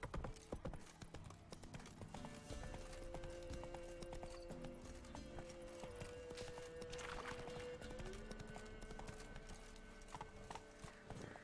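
Geralt's horse Roach gallops in The Witcher video game, a fast, steady clip-clop of hooves running continuously and close, with game music and ambient sounds underneath.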